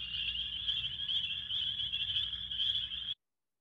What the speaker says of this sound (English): So we'll hear them peep one more time.